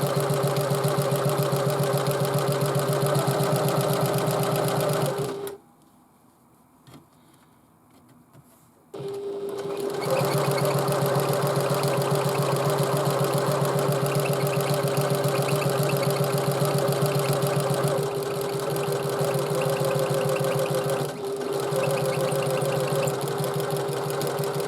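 A sewing machine stitches a tote bag seam with right sides together, humming steadily and close up. It stops for a few seconds, then resumes and runs on without a break.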